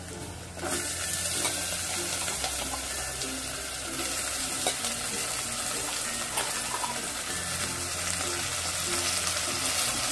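Finely chopped, washed potatoes go into hot oil with chillies for a fasting dish, a loud, dense frying hiss that starts abruptly and carries on steadily with light stirring, no talking.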